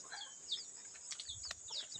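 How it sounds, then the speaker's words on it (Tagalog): Small, young chickens on a farm cluck and chirp softly in short, scattered calls over a steady high-pitched background hiss. "Ayun, maliliit pa yung mga manok ko."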